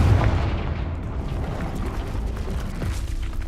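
A Confringo spell detonates in a video game with a heavy booming blast right at the start, followed by a dense, sustained rumble that stays loud and slowly settles.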